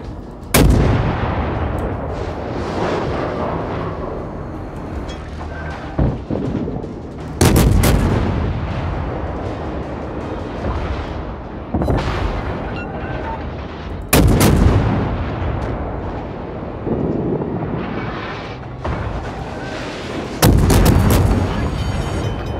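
Ship guns fire in a naval combat video game: four heavy, booming salvos land roughly every seven seconds, each followed by a continuous rumbling battle din, loud and close.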